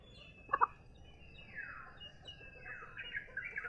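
Farm chickens give a few soft clucks and squawks, with a short louder double burst early on, fairly faint against quiet background.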